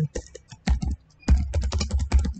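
Keys clatter on a computer keyboard as a command is typed in a terminal, short quick bursts of clicks separated by brief pauses, close and clear with no talk.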